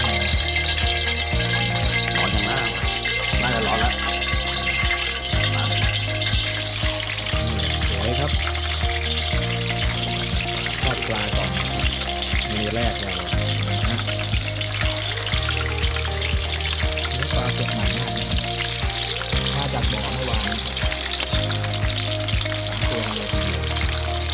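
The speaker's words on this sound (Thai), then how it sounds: "ปรุงรสปลาก่อน ก่อนที่จะดำเนินการทอด" Seasoned fish pieces fry in hot oil, giving a steady, even sizzle that runs the whole time beneath rhythmic background music.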